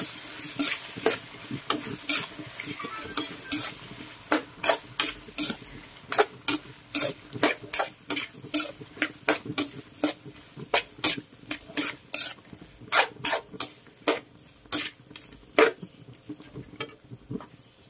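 Pork fat being cooked in a pan for sinam itan is stirred with a utensil in repeated sharp scraping clacks, roughly one or two per second, over a soft background sizzle.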